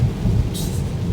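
Rain and thunder heard from a truck on the highway: a low, close rumble of thunder beneath steady rain noise, with a brief hiss midway through.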